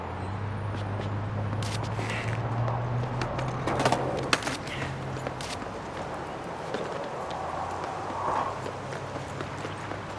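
Crows caw in the skateboarding video game skate., a few scattered calls over steady ambient noise, joined by footsteps and light movement.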